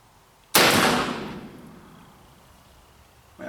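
A Ruger Old Army black powder revolver fires a single loud, sharp shot at close range, its boom trailing off in a long decaying echo outdoors, with the start of another sound at the very end.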